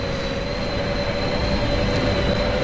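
A departing S-Bahn train in the Train Sim World 4 simulator on the Luzern–Sursee route, a steady loud rolling rumble with a sustained wheel tone and faint squeal throughout, no voices.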